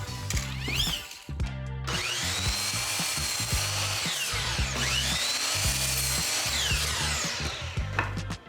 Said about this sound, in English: Now I'll go cut that down.